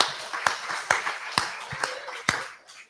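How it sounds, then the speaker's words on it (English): A small audience at a live broadcast from My Place in Frankston gives only a few sparse, separate claps, about five sharp hand claps spaced irregularly and heard close, with faint background sound between them. "give yourselves a round of applause, ladies and gentlemen"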